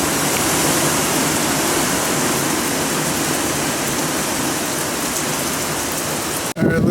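Heavy hurricane rain pours steadily and loudly, a dense continuous roar of water hitting surfaces that lasts for nearly seven seconds before cutting off abruptly, with no talking.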